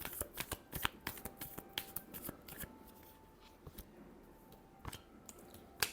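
Tarot cards being shuffled by hand, a close run of quick papery riffles and flicks with no talking.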